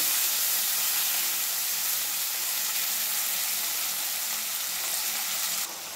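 Drumstick leaves with cooked toor dal frying in a pan, a loud, dense, continuous sizzling hiss held close and steady throughout, with a slight change in texture near the end.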